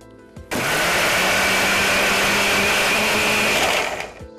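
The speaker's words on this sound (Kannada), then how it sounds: "ಹಾಗಿದ್ರೆ ಮಿಕ್ಸಿ ಮಾಡ್ಕೊಂಡ್ಬಿಡೋಣ" A mixer grinder whirs into action, grinding green chillies into a fine paste: a loud, steady motor whine that starts suddenly, holds for about three seconds, then spins down.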